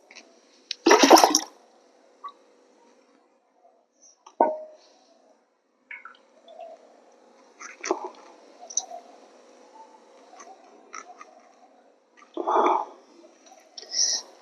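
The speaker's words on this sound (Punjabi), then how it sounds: "ਇਹਨੂੰ ਆਪਾਂ 8-10 ਵਾਰਾਂ ਧੋ ਲਾਂਗੇ ਇਸ ਤਰੀਕੇ ਨਾਲ" Wheat flour dough is washed by hand in water for aate diyan vadiyan, giving quiet, intermittent sloshes, squishes and splashes with short silent pauses between.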